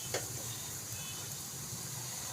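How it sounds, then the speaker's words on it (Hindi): Bread pieces fry in hot ghee, giving a steady, close, low-level sizzle with fine crackling throughout and a brief clink near the start, with no voices. "इनको फ्राई करने के लिए कुकिंग ऑयल की जगह अगर आप घी यूज़ करेंगे तो उसका बहुत ज़्यादा बेस्ट रिज़ल्ट आएगा"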